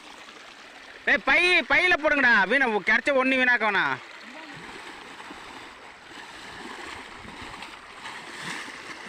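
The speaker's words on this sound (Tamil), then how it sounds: "ஓடையில் தண்ணி போயிட்டுருக்கு" Water runs steadily along a small stream where a pot trap is set for fish, producing a continuous rushing wash. Someone talks loudly over it for the first few seconds, then the flow carries on alone.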